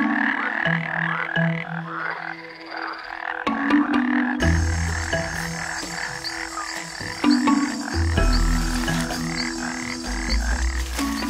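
A cane toad, a large ground-dwelling toad, croaks loudly and close up in repeated calls, with overlapping croaks and low throaty pulses that continue throughout.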